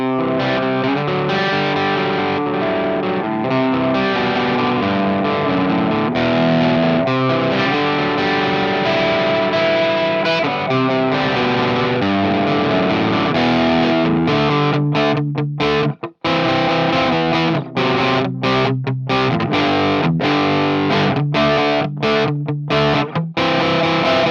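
An electric guitar through an EVH 5150 III EL34 tube amp plays chords with mild crunch at low gain, guitar volume halfway down, loud and sustained, ending in choppy, muted strums.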